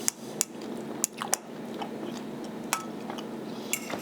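Several sharp, crisp crunches of freeze-dried lasagna cheese scattered across a few seconds, close up, with quiet pauses between bites and no talking.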